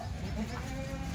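A Kathewadi goat bleats briefly amid a steady, noisy farmyard background, the call short and close within just over a second of sound.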